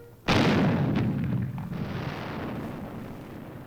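Bazooka fired during military training in Berlin, one sharp loud blast that rolls off into a long rumbling decay.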